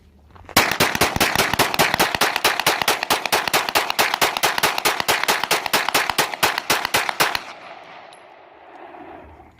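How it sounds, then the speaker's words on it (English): A Glock 19 pistol fires in a fast, rapid string of around thirty sharp, loud shots at a steady rhythm, then the firing stops and leaves a low ringing tail. "This is just how many rounds I can get down range in the shortest amount of time."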